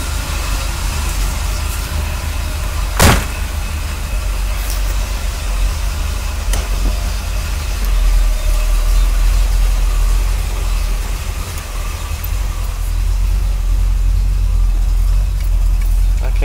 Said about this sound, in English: But I want to drive it a little bit.